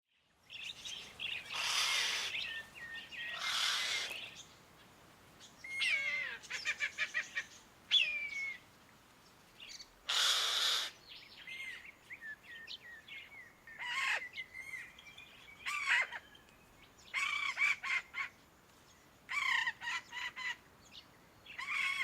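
A wild bird mimics the calls of two birds of prey, a whistling kite and a brown falcon, in a string of loud, harsh and whistled bursts separated by short pauses, with no other voices.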